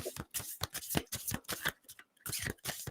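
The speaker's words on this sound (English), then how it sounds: "I'm gonna shuffle the cards now." Tarot cards being shuffled up close, a quick series of crisp riffling bursts in a steady rhythm, each followed by a brief pause, with no talk.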